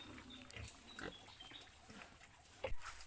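A pet pig grunts in short, low bursts near a farm, with a louder grunt toward the end over steady background noise.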